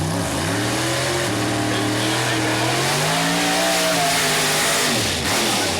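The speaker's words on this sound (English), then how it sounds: "On the burnout, and warming the hides on the back of that 63 Corvette built by Tommy Mooney." A 1963 Corvette pro mod drag car does a burnout at Mooresville Dragway, its engine revving loudly with rising and falling pitch over a sustained roar before it cuts off near the end.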